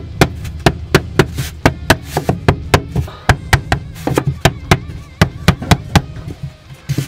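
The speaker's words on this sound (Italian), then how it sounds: "martello" Hammer tapping a polystyrene-backed panel into place while repairing water leaks in a camper, a rapid run of about twenty sharp, close knocks in an irregular but steady rhythm, with no talking.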